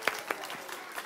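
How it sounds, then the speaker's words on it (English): Brief, faint applause from an audience at a children's reading event: a few scattered sharp claps over a low murmur. "Give yourselves a round of applause, everybody."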